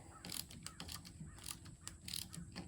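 Small ratchet wrench clicking while working on the window regulator of a 2005 GMC Sierra, a close, quiet series of irregular mechanical ticks and ratcheting bursts with no talk.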